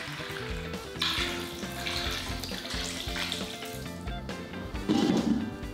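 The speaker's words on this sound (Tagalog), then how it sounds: "Kaya naman nagdadagdag ako ng tubig." Water pours steadily into a cooking pot of pork hock for paksiw na pata, a continuous splashing rush that grows brighter near the end, with music playing underneath.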